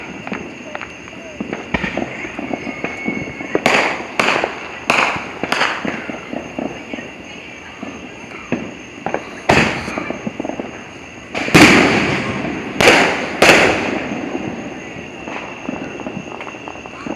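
Fireworks explode in a run of sharp, loud cracks and bangs, some single and some in quick clusters, with people talking between the bursts.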